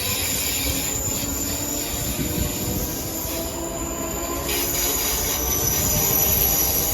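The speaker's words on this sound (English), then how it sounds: "And departing out now is the delayed 1612 ScotRail service from Edinburgh Waverley to Milngavie." A delayed ScotRail passenger service from Edinburgh Waverley to Milngavie departs Haymarket station, a steady loud rumble of wheels on rail with high sustained squealing throughout, no talking.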